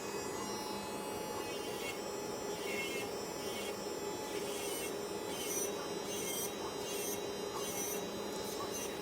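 A nail file rasping over a gel baby boomer manicure, a soft continuous scratchy rubbing with faint rhythmic strokes over a low background hum, quiet and close, with no talking.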